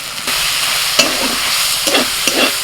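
Ground cumin, coriander and Kashmiri chilli are stirred in a hot pan for pav bhaji, with a close, steady sizzle and a few sharp stirring scrapes.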